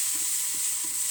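Onion and garlic sautéing in hot oil in a pan, a bright, steady sizzle heard up close with faint stirring beneath.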